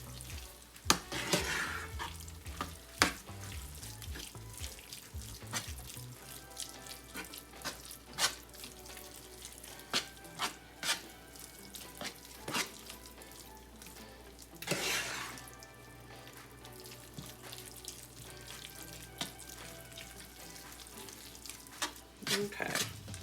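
A casserole mixture is stirred in a pan until combined, producing soft repeated scraping and wet shuffling strokes with occasional louder clinks, close and moderately quiet, with brief talk in the background.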